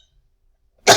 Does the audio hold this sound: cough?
yes